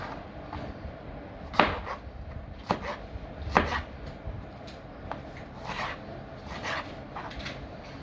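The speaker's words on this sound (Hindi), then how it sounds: "अभी मैं टमाटर काटने लगी हूँ, तो इसको स्मॉल पीसेस में काट लें।" Tomatoes are chopped into small pieces on a board, a handful of crisp knife knocks spaced irregularly over a soft background hiss, close and fairly quiet.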